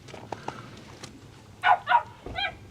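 Dog barks indoors, likely in a Bailey Adamo 69-4 caravan: two loud close yaps followed by a whining bark, with faint earlier thumps and a quiet background.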